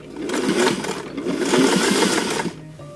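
A sewing machine runs steadily for about two and a half seconds, stitching a dress seam closed during a one-shoulder dress alteration, then stops abruptly, leaving a brief quiet tone.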